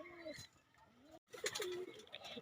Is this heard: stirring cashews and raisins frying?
no